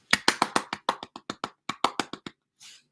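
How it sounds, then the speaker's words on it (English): Sharp, evenly spaced claps or taps, about fifteen in quick succession, then a brief soft rustle. They sound like a single close pair of hands rather than a crowd applauding for the parents. "another round of applause for these parents of hers"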